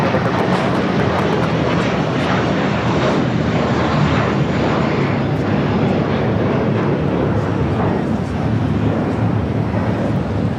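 A jet taking off at Los Angeles International Airport makes a sustained, loud engine roar with a rumbling low end, steady for the whole stretch and with no talking.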